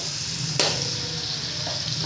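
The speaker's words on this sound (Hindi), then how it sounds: "इसे अच्छी तरह हम भून लेंगे।" Ginger garlic paste fries in hot oil in a kadai for a potato and egg curry, a steady close hiss with one brief scrape of a spoon partway through, no talking.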